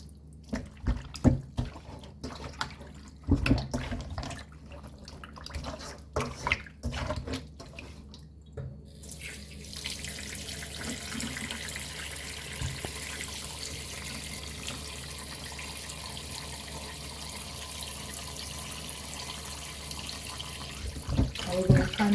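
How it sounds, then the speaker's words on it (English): Pork being washed under a running kitchen tap: irregular splashes and handling at first, then a steady, close rush of water pouring into the sink for the rest of the clip. "We're going to continue to wash our meat."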